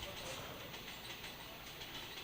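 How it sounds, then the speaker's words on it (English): A local train passing near a cricket ground in Kerala, heard as a faint, steady rumble and hiss with soft rhythmic clatter, distant and continuous. "As the local train passing,"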